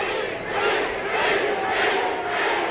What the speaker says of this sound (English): You can hear that crowd from Sacramento roaring in the background